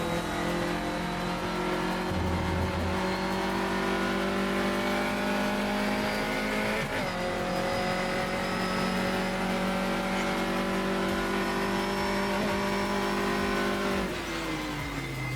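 Open-wheel race car in a sim racing game braking hard and downshifting with heel-and-toe blips, its engine note stepping down in pitch with steady loud engine drone throughout, a brief tyre scrub, no voices.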